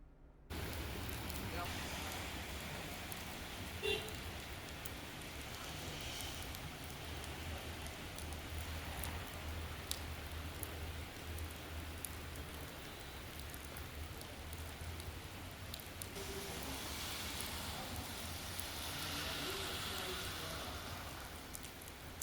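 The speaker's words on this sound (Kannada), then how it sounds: "ಶಿವಮೊಗ್ಗ ನಗರದ ಹಲವು ಕಡೆ ಸಣ್ಣ ಪ್ರಮಾಣದಲ್ಲಿ ಮಳೆಯಾಗಿದ್ದು ತಂಪಾದ ವಾತಾವರಣ ನಿರ್ಮಾಣವಾಗಿದೆ" Light rain falling across Shivamogga city, a soft steady hiss of drops that swells slightly toward the end, with no voices.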